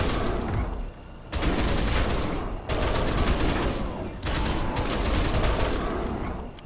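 Sustained automatic gunfire in Dead Island: Riptide comes in three long, loud, dense bursts separated by brief gaps.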